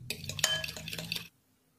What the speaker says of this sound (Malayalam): ഇപ്പോൾ നന്നായി പാലും മുട്ടയും ഉപ്പും അടിച്ചെടുത്തിട്ടുണ്ട്